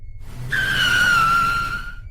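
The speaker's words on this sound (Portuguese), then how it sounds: "Os pneus cantaram no asfalto, um grito de borracha e pavor. O carro parou de repente" Car tires squealing on asphalt as a car brakes suddenly, one loud sustained screech that slides slightly downward in pitch over about a second and a half, close and alone with no talk.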